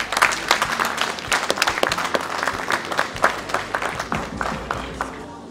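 An audience at a celebration of life gathering applauds steadily, many hands clapping in a close, lively burst that tapers slightly toward the end.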